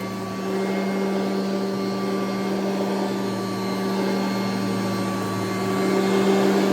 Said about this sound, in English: let's see what the 1982 Kirby Heritage 1 sounds like